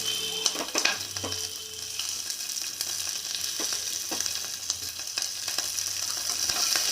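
Curry leaves frying in a pan, a continuous close sizzle with scattered sharp crackles and occasional stirring clinks, with no voices over it.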